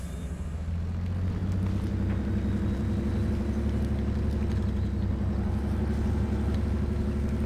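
Truck engine in MudRunner, a deep steady rumble that rises in the first second and then holds as a continuous low drone while driving over rough off-road terrain.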